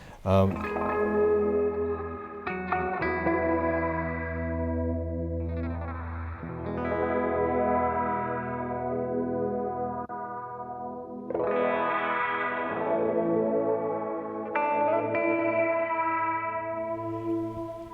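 An electric guitar played through the delay block of a Fractal FX8 effects unit rings out in sustained, echoing chords and notes, with repeats smearing into one another and fresh strums at a steady pace, loud and close.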